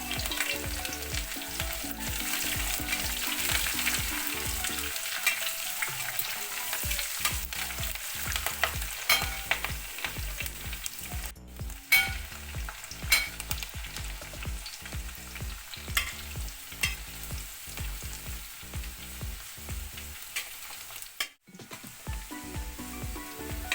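Garlic, ginger and green chilies fry in oil after mustard seeds have popped, early in a home-style kappa biriyani. A continuous dense sizzle is broken by frequent spatula stirs and clinks against the pan.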